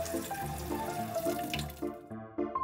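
Tap water splashing steadily through a cut plastic bottle used as a funnel at a kitchen sink, a continuous close running stream with shifting gurgles and brief drip-like breaks near the end.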